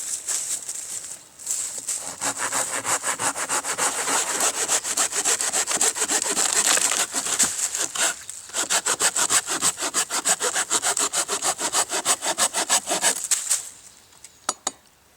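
A Silky pruning saw cuts through wood in steady, rapid back-and-forth strokes, loud and close, running for about twelve seconds before stopping, with a few final scrapes at the end.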